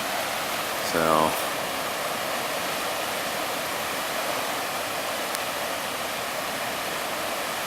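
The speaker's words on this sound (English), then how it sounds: "this is where that stream is coming down the sidewalk over there" Floodwater running down a sidewalk in Arvada, Colorado, a steady broadband rush like a stream heard from a distance, with a brief spoken word near the start.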